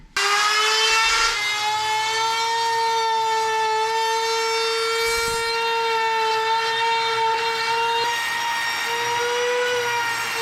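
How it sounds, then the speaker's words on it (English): A router fitted with a roundover bit rounds the edges of 4x4 wooden posts, producing a loud, steady, high-pitched whine that holds almost unbroken for about ten seconds with no talking. "I've got a new roundover bit that I've been using a lot on my router here."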